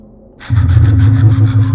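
A saw cutting in The Silent Age video game, with a steady low hum under quick repeated rasping strokes that start about a quarter of the way in and continue loudly to the end, with no speech.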